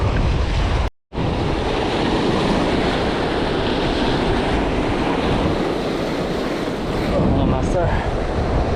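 Strong surf and ocean waves roll in steadily near a shallow fishing spot, a loud continuous wash broken by a brief gap, with wind noise over the microphone and a short spoken phrase.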